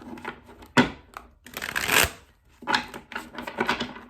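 Crisp riffling bursts of playing cards being shuffled nearby, several quick flurries separated by short pauses.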